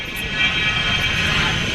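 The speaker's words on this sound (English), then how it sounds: "Plane is either taking off or landing, but they're making sure that nobody can cross the barrier." A fixed-wing airplane taking off or landing at Gibraltar airport while a barrier holds back traffic, giving a steady, broad engine roar that stays at an even loudness throughout.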